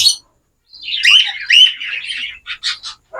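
Cockatiels in a breeding setup give a run of bright, high chirps and whistles in quick bursts with brief pauses between them, close and clear.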